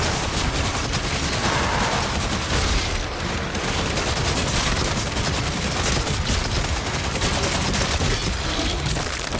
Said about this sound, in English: You can just keep firing it. It gains ammo and health back as you fire it.